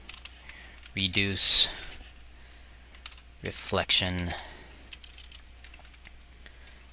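Bursts of quick typing on a computer keyboard, clustered clicks in two short runs amid quiet stretches, with a person speaking over them.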